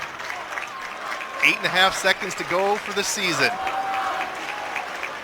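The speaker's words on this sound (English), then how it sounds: "Their fans below us are cheering them on." Fans cheer and applaud at a high school boys basketball playoff game, Scarlet Knights against Xaverian Brothers, loud and sustained crowd noise with rising bursts under steady commentary.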